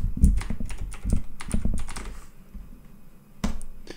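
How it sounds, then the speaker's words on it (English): Quick bursts of close, crisp keystrokes as an IP address is typed on a computer keyboard, with a pause before a final cluster of clicks. "I'm just going to type my IP address"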